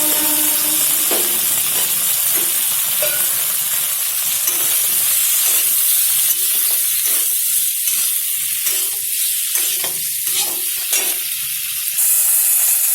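Small salted, turmeric-coated potato pieces drop into hot oil for a vegetarian soybean curry and sizzle loudly and steadily, with bursts of spitting and stirring scrapes.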